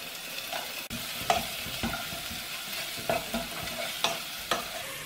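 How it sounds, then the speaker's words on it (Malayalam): Chopped ginger and garlic sautéing with tomato for a chicken curry, a continuous close sizzle punctuated by several sharp spatula scrapes and stirs against the pan at regular intervals. "ഇഞ്ചിയുടെയും വെളുത്തുള്ളിയുടെയും പച്ചമണം മാറുന്നിടം വരെ വഴറ്റണം"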